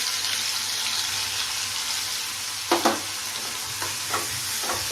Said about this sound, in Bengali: দিয়ে পেঁয়াজগুলোকে ফ্রাই করে নিচ্ছি